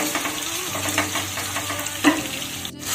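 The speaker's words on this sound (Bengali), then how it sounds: "এবার আস্তে আস্তে নেড়ে চেড়ে একটু ব্রাউন করে ভেজে নিতে হবে" Boiled soybean chunks fry in oil in a wok while being slowly stirred to brown them: close crackling sizzle with scraping stirs and a sharper clack near the end, no voices.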